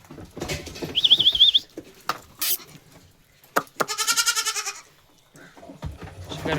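Young goat kids, a male and a female, bleat in short wavering cries, several loud calls close by separated by rustling and shuffling, with little background noise.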